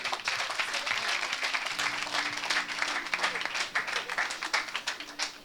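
A church congregation at a deliverance service breaks into sustained, dense applause and scattered cheering that fills the room, with voices mixed into the clapping.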